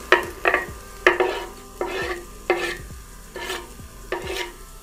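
Carrots sizzling with frying onions as a spoon stirs the pan, six or seven sharp scraping strokes at a steady rhythm over a continuous low sizzle, close and clear.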